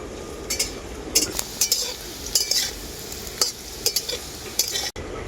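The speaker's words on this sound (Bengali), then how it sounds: "আদা বাটাটা আলুর সাথে আমি খুব ভালো করে ভেজে নেব" Potatoes frying in oil with ginger paste, a continuous soft sizzle broken by intermittent scraping strokes of a metal spatula in the pan, close and fairly loud.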